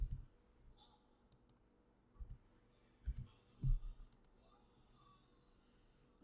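Computer mouse clicks while working in TinkerCAD, a few soft, sparse clicks and small thumps spread over a quiet, faint background.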